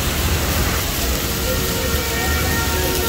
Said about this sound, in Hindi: बाकी आप देखें कितनी तेज़ रफ्तार बारिश हो रही है यहाँ पर